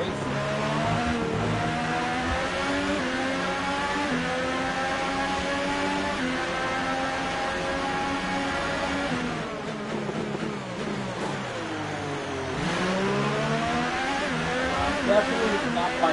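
F1 2018 race cars at the Canadian Grand Prix in a video game, high engines wailing and shifting pitch as they accelerate and brake together, loud and continuous, with a voice talking over them.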